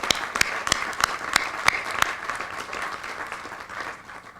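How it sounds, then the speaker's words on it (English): Applause from an audience at an affordable housing press conference held near a church, a few sharp distinct claps standing out over a steady spread of clapping at moderate volume. "Please give a round of applause."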